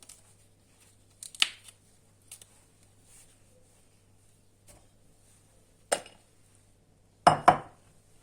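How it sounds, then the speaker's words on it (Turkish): Fresh fava bean pods snapped apart by hand during cleaning for an Aegean-style olive oil dish, a few sharp isolated cracks spaced out over quiet kitchen background. "O yüzden elinizle bu şekilde kopararak temizleyebilirsiniz."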